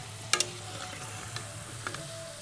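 Fried potatoes lifted out of hot oil in a home kitchen: a soft bubbling sizzle in the background, broken by a few sharp clinks and scrapes of a utensil against the pan, fairly quiet and close.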